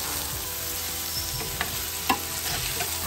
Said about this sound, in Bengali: চালটা ভাজি নিয়ে ভেজে নেই